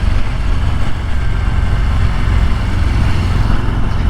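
A 2023 Harley-Davidson Breakout motorcycle engine drones steadily at close range, a low, dense rumble holding an even level throughout with no break or voice over it.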